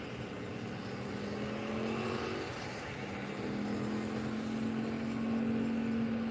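An airliner on final approach to runway 10 at Faro Airport produces a steady, faint engine rumble and hum, distant and continuous without talk.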